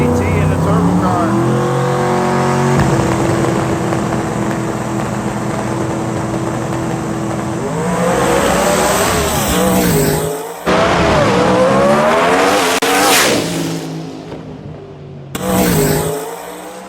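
A turbo Pro Mod drag car launches down the strip at IHRA Pro Mod Nationals qualifying, a loud, rising engine roar that climbs through gears, drops off abruptly, then surges again, with an announcer talking over it.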